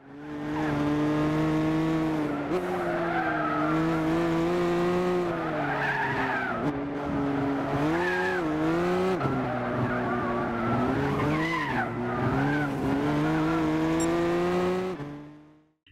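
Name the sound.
race cars skidding on the Nürburgring in video game Gran Turismo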